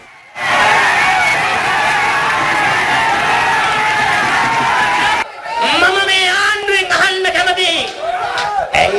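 A large crowd at a UNP political rally roars and cheers continuously, with loud whoops and shouting toward the end and voices mixed into the din.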